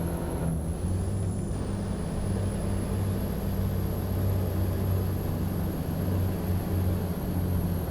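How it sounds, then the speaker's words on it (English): Kenworth W990 logging truck in American Truck Simulator braking on its retarder, a steady low engine drone holding constant with a faint high whine above, no voices. "Sounds like the retarder a little bit, even though it's not the Jake brake"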